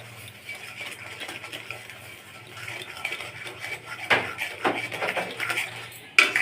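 Spoon stirring milk and sugar in a pot while making sandesh, with soft scraping and light metallic clinks against the pot that grow a little louder toward the end, close and quiet.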